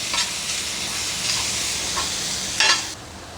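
Masala for goat brain fry cooks on a hot tawa with a steady close hiss and sizzle, broken by a few louder scraping stirs, without any talking.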